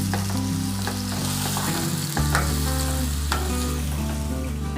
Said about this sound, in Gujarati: આપણે એને તેલની અંદર મિક્સ કરી અને બ્રાઉન થાય ત્યાં સુધી આપણે એને સાંતળી લઈશું